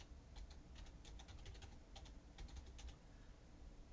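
Fingers type a web address on a computer keyboard, giving soft, quick clusters of key clicks with brief pauses, faint and close, with no voices.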